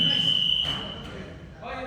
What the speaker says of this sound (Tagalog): Warning buzzer.